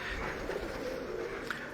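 Breeder pigeons coo in a low, steady murmur that runs continuously through the short stretch, fairly close and with no voices over it.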